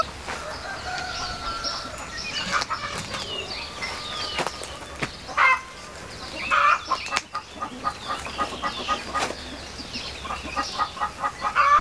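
Free-roaming farm chickens cluck and chatter in quick repeated bursts at moderate distance, with scattered rustling and footsteps underneath.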